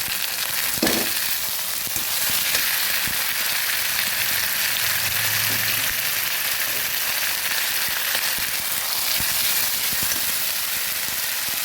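A ground paste of onion, garlic and ginger fries in hot oil in a pan for a Bengali fish-head muri ghonto. It gives a loud, steady sizzle with occasional stirring knocks throughout.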